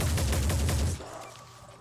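Gunfire from the video game Phoenix Point: a dense rapid burst of shots for about a second, loud and close, then cutting off abruptly into quiet reverberant tail.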